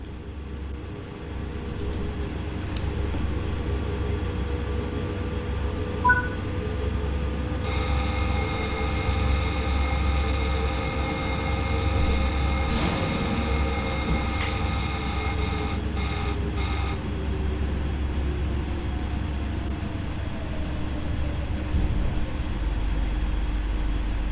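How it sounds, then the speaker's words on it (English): Train Sim World 5 simulation on the Zwolle line, with a steady in-cab rumble and a repeated electronic alarm tone from the ATB protection system as emergency braking engages; a brief hiss and clunks follow, and there is no talk. "Exceed the speed limit again and wait for the train to enforce emergency braking."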